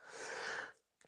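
A single close-up human sneeze, a broad breathy burst lasting over half a second, followed by a short pause and a faint intake of breath.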